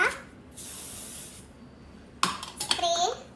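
Soft hairspray misted onto hair from a can held about a foot away, one long steady hiss up close followed by a burst of clattering handling noise and a voice in the background.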